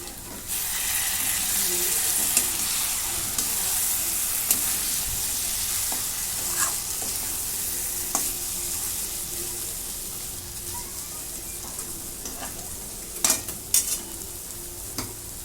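Bitter gourd frying in oil over a low gas flame makes a steady, close hiss that runs throughout, broken by occasional stirring clinks and a few sharper scrapes near the end.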